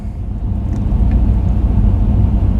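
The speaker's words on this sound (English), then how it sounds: "This guy next to me, I think he's doing a regen." Truck engine running at raised RPM during a regen at a truck stop, a steady low rumbling drone heard from nearby, continuous and unbroken.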